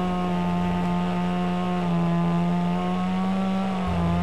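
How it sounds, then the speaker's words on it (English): A small chainsaw cuts into a log during log cabin construction, its engine holding a steady, loud, buzzing drone for the whole stretch with a slight dip near the end. "a small chainsaw can be expected to do the job"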